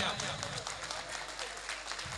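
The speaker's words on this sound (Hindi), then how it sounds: "जोरदार तालियां होनी चाहिए।" An audience at a ceremony honouring an IPS officer, the principal of the Junagadh police training college, claps briefly, a soft patter of many hands heard at a distance.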